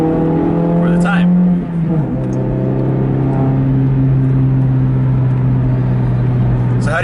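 A car cruising along a road, its engine humming steadily from inside the cabin with a brief shift in tone partway through, a low continuous drone for the whole stretch.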